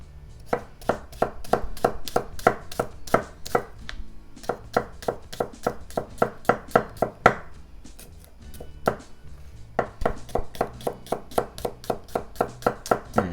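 A knife slices prosciutto thinly on a cutting board, a long run of crisp, evenly spaced chops in quick bursts with brief pauses between, close and clear with no talking.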